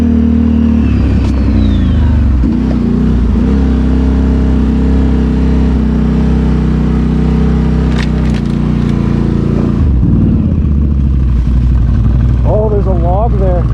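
A Can-Am Outlander ATV's engine drones loud and close during a winter trail ride, holding a steady mid-pitched roar with a few rising revs near the end.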